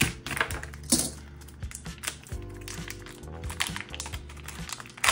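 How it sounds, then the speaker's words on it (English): Packaging for a VCI 2207 2160KV LT FPV racing drone motor being ripped and cut open with a knife, with close crinkling plastic, sharp tearing and small clicks and rattles throughout. "Let's rip this package."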